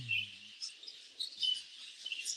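Parakeets in an aviary cage give faint, high chirps and tweets in quick scattered bursts, with a brief low hum at the very start.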